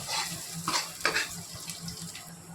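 Onions fry in a pan for Punjabi saag, giving a steady close sizzle broken by several louder scraping stir strokes over a faint low hum, with no voices.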